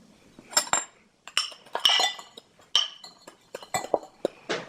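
A metal spoon clinks and scrapes against a bowl in quick, uneven taps while scooping brown sugar for a Korean beef rice bowl sauce, close and crisp with gaps between strokes.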